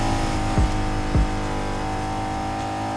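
A Honda NSX in the racing game Need for Speed Heat, accelerating with nitrous as a loud steady engine roar with two quick gear-shift dips.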